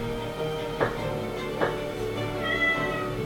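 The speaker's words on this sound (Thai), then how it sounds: "เหมียว" A cat meows softly in two brief calls, faint beneath a steady background of music or room noise from a drama series.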